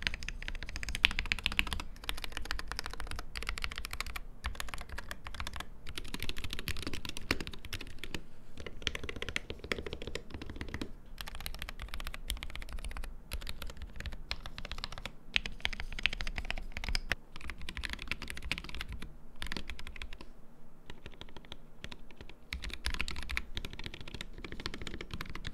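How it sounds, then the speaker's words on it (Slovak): Steady rapid typing on a Wooting 60HE gaming keyboard, dense clacking keystrokes running continuously at close range with brief pauses, no voices. "sami si vypočujme nejaké tie kombinácie v nasledujúcom soundteste"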